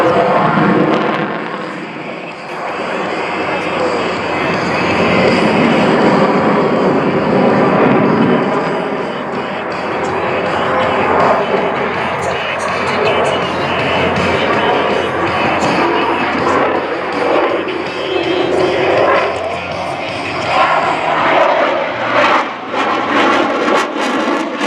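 An aircraft performing a J-turn at a naval air station airshow produces a loud, sustained engine roar that swells and shifts across the whole stretch, with faint crowd sound underneath.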